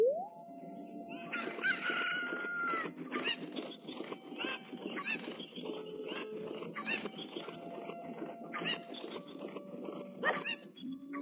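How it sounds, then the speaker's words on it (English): Chickens from Zelda: Ocarina of Time cluck repeatedly in short game sound effects over a steady tonal background, with bright clucks recurring throughout and fairly quiet overall. "there are still 2 other chickens over there that I left"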